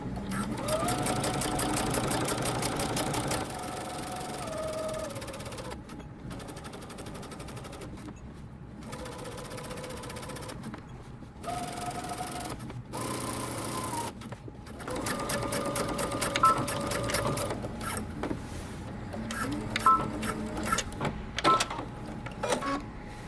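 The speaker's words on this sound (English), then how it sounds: "Now we're going to go to the sewing machine and we're going to stitch close to the edge." Home sewing machine stitching dress fabric close to the edge, with repeated whirring runs of rapid needle strokes broken by short pauses and backstitching, loud and near throughout.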